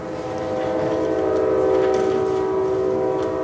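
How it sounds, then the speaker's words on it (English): A passing train sounds its horn in a long, sustained, loud blare over rumbling wheels, holding steady from start to finish with no speech. "Train."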